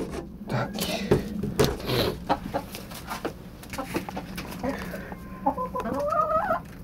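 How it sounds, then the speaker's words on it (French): Hens cluck in a coop as its door is opened, giving scattered, uneven calls at close range while someone talks over them. "Vous verrez les poules en même temps."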